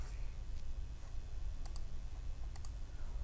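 Computer mouse clicks while taking a screenshot on a Facebook profile page: two short, crisp double clicks, close and fairly faint, over a steady low hum.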